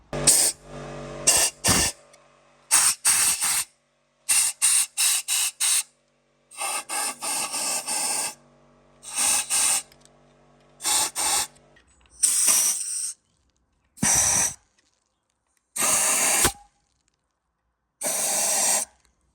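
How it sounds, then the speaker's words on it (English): A compressed air line blasting salt out of an engine block, heard as a series of loud, close hissing bursts of uneven length separated by short silences, with no voices. "So I blasted all the salt out with the airline"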